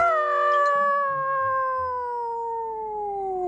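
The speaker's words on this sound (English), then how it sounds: "Then she looked up at little Billy and howled." A single long, loud howl in a children's story, rising then slowly sliding downward with rich harmonics, heard alone and close, meant as a wolf's cry.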